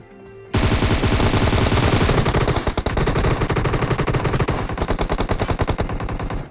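Automatic gunfire in PUBG Mobile comes as loud, rapid bursts of rattling shots. The fire is dense and sustained, with a few short breaks between the bursts.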